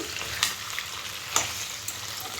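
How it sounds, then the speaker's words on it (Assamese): Meat seasoned with salt fries in a pan, giving a quiet, steady sizzle broken by a few sharper spits and pops, with no talking. "মাংসখিনি নিমখ চিমখ দি পেলাই মই এতিয়া ভাজি আছোঁ এইখিনি।"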